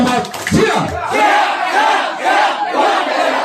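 A crowd at a Linmas civil-defence gathering in Cikampek bursts into loud, dense applause mixed with cheering shouts, swelling and holding steady for a few seconds.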